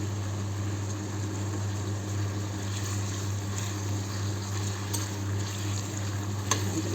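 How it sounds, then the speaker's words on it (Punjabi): Onions frying in a pan, giving a steady, even sizzle under a constant low hum throughout, with a sharp tick or two near the end. "ਪਿਆਜ਼ ਸਾਡੇ ਹੋ ਰਹੇ ਨੇ ਐਨ ਪ੍ਰੋਪਰ ਤਰੀਕੇ ਨਾਲ ਇਹਨਾਂ ਨੂੰ ਲਾਲ ਕਰਾਂਗੇ"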